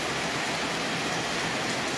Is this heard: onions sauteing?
no